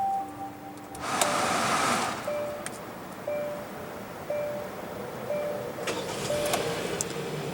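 A 2016 Hyundai Sonata's 2.4-liter inline four-cylinder engine cranks and catches at about one second, then runs steadily with a low hum, while a soft electronic chime repeats at regular intervals.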